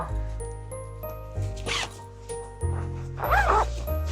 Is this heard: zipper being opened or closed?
yes